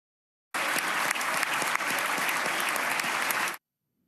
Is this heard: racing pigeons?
no